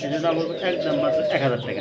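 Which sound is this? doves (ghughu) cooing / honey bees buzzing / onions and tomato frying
doves (ghughu) cooing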